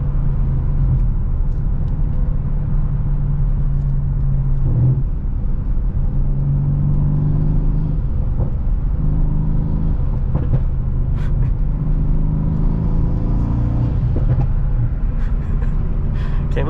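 A Mercedes C63 with a 500hp V8 and stock exhaust rumbles deeply while driving, a continuous low throaty drone with rising pulls and brief shifts, heard from inside the car with no talk.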